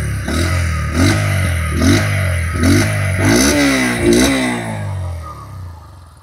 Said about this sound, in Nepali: यसको एक्जस्ट सुनौं